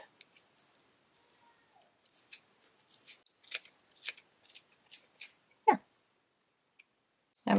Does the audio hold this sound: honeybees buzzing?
no